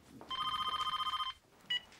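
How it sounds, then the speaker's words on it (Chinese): A telephone bell rings indoors in one sustained burst of rapid trilling lasting about a second, then a brief second ring begins after a pause. "哟，等一下啊，我先接个电话啊。"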